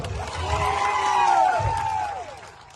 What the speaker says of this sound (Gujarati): પોલીસ માટે એકવાર જોરદાર તાળીઓ પાડી લો